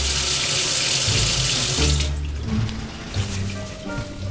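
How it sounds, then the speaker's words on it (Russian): Running tap water pours steadily into a sink as a test strip is rinsed under the stream, a loud, continuous splashing that softens slightly midway. "Давайте промоем полоску под струей воды"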